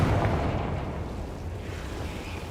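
An explosive blast spell cast in Hogwarts Legacy: a loud, rumbling boom that hits at once and rolls on as a dense roar, fading slightly over about two and a half seconds, with no speech.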